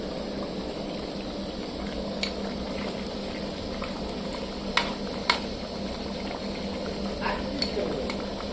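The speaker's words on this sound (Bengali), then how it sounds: "আমাদের নেক্সট প্রসেস চলছে মাংসটাকে ভালোভাবে সিদ্ধ করার জন্য।" Mutton simmering in a pot, a steady bubbling hiss throughout, with a few sharp metallic clinks of a utensil against the pot.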